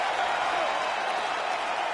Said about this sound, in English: you hear the crowd react every time they come together